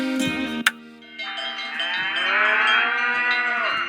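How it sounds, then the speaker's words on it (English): Cattle moo in the ranch-themed mystery video game Nancy Drew: The Secret of Shadow Ranch, with several long, drawn-out bovine calls one after another and a sharp metallic clank near the start, loud and close with no talking. "hear that? That's the sound of happy cattle"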